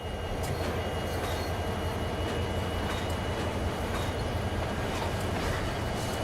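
A freight train being shoved around a loop in the Train Sim World game, a continuous loud rumble of railcars and wheels with faint squeals, steady throughout with no talk.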